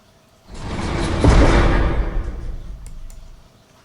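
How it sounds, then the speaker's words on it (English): A heavy metal jail door slams shut with a loud boom that rolls into a long, echoing rumble before fading away. "you need to hear the sound of the jail doors slamming behind you"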